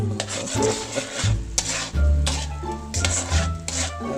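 A spoon stirs and scrapes through spaghetti ingredients in a pot or pan, giving repeated uneven scraping and rubbing strokes with a few louder knocks, close and steady, with no voices.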